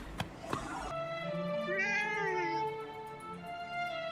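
Cats meowing in Kitty Cat Land in the video game Forspoken, a sharp sound near the start followed by a long, drawn-out tonal meow with a rising, wavering pitch over steady game ambience, and no talking.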